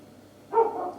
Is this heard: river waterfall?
no